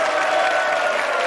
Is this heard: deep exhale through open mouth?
no